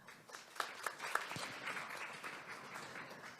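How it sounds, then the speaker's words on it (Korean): Applause for panelists at a career concert session, starting with a few distinct claps that build into soft, fairly distant clapping from a modest audience, quiet overall. "큰 박수 부탁드리겠습니다."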